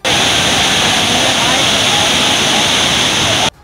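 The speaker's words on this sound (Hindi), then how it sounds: "भारी बारिश के बाद कुंड में गिरने वाले झरने ने रौद्र रूप अख्तियार कर लिया।" A raging waterfall swollen by heavy rain plunges into a forest pool at Brihaspati Kund, a loud, dense, unbroken roar that stops abruptly at the end.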